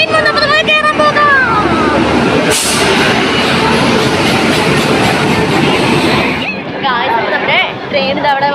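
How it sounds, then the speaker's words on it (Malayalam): A train pulling into a railway station, its loud rumbling roar and clatter filling the scene, with a sharp burst midway and horn-like tones at the start and end, while people talk nearby. "നമ്മുടെ ട്രെയിൻ അവിടെ വന്നു കഴിഞ്ഞിട്ടുണ്ട്."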